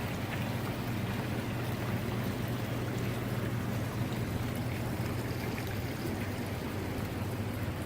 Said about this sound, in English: Oh, beautiful waterfall.